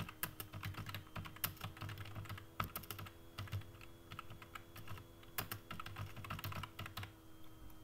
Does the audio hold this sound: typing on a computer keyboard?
yes